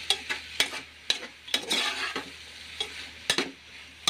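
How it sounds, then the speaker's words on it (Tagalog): Fish and shrimp are sautéed in a pan. A spatula stirs and scrapes in sharp, repeated strokes over a soft, close sizzle. "Ihalo sa shrimp. Gisa pa rin siya."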